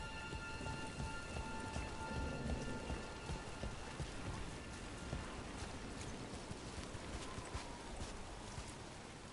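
Steady, heavy rain in the video game Dragon Age The Veilguard patters densely on surfaces throughout, with low rumbling underneath and no voices.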